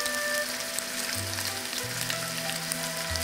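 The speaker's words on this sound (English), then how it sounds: "fry the ginger for about 4 minutes, 2 minutes on each side, so that both sides will be browned" Ginger slices fry in hot corn oil in a wok with a steady, close, crackling sizzle. A low hum runs underneath and no one speaks.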